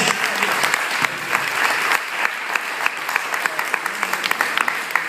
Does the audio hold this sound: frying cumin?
no